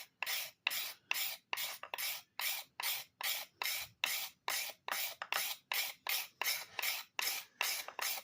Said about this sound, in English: Let's see what this scraper will do to that there